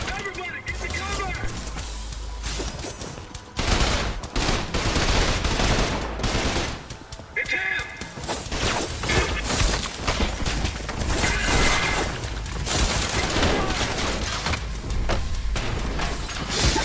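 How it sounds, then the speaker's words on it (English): Shotgun blasts and automatic gunfire in the shooter video game Trepang 2, dense, loud bursts of firing with crashes, continuous throughout under a player's talking. "Oh gosh, shoot a shotgun."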